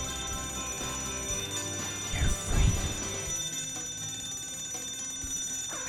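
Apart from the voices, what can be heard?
alarm ringing in Scribblenauts Unlimited video game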